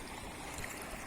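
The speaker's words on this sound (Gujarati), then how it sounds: "જુઓ તમે, વેકરા ફૂલ પાણીના અત્યારે બેફામ જાય છે" Floodwater rushes through a stream after very heavy rain, making a steady, broad, noisy roar that stays constant and faint, with no voices.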